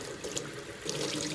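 A faucet runs into a sink while dyed fabric is rinsed, a steady close splashing stream with brief shifts as the flow hits the cloth, no voices.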